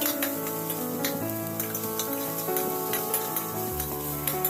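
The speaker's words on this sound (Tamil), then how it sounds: "அதோட நம்ம அரிஞ்சு வச்சிருக்கிற பெரிய வெங்காயத்தையும் சேர்த்துக்கலாங்க. அதையும் சேர்த்து நல்லா வதக்கிக்கலாம்." Chopped large onion and green chili sauté in a hot pan with a steady, bright sizzle, while occasional stirring scrapes sound close by.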